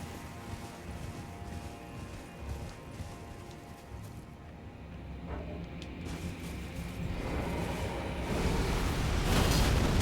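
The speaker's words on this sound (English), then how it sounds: "Ooh, fireworks." Fireworks burst in Elden Ring as a dense, rumbling wash of crackles and booms. It starts moderate and swells louder and brighter toward the end, with no voices over it.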